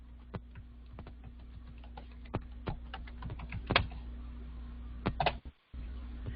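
Quick, quiet clicks of a computer keyboard as a search term is typed, irregular keystrokes close by with a faint steady hum underneath.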